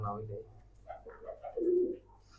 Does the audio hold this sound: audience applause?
no